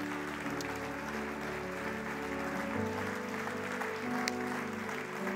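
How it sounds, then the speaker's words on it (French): A church congregation stands and claps in sustained applause, a dense wash of hands under steady tonal music holding beneath it. "Est-ce qu'on peut tous se lever à notre place et juste applaudir notre Seigneur pour la vie qu'il nous donne?"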